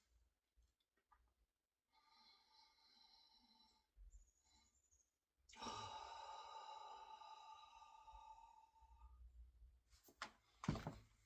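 Side breathing exercise with a soft inhale, then a long, close exhale, with a few light thumps and a brief rustle near the end, quiet and without talk.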